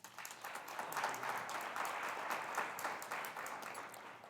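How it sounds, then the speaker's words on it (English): Sustained applause from a graduation ceremony audience at the OSUIT spring 2021 commencement, a steady dense wash of many hands clapping at moderate distance, rising slightly and holding level throughout. "Let's give him a round of applause"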